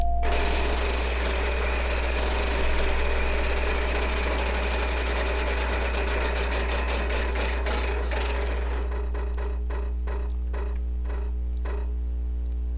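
A prize wheel spins in a Wheel of Fortune video game, a rapid run of ticks over a steady electronic hum that gradually slows and spaces out until it stops.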